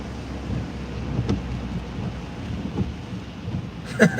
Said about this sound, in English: we got this heavy rain. It's like that heavy mist I was talking about before. Just kind of pelting us